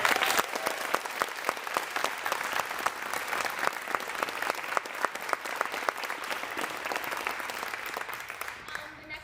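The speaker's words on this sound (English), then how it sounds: "I would just love to have a round of applause for how amazing he is" A school theatre audience applauds the set designer after a high school production of Our Town, steady dense clapping filling the hall for several seconds before tapering off at the end.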